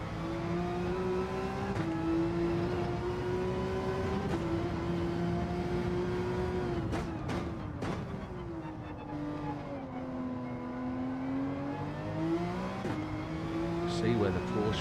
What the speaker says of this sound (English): See where the Porsche was quicker than that Beamer, but look at the Beamer overhaul it. Just rips through the Porsche on the straight.